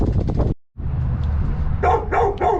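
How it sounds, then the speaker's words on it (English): A neighbouring dog barks repeatedly nearby: a loud run of barks, a brief pause, then a steady low rumble with further sharp yips near the end. "please pardon my son's dog next door. It keeps barking"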